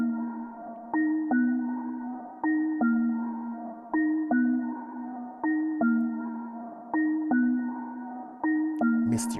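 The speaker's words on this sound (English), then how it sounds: "we're going to be moving on to the bell" Bell-like metallic tones ring in a looping riddim pattern, each strike sharp and bright, repeating at a steady tempo with no voices.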